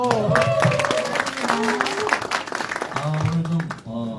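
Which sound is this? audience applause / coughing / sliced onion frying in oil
audience applause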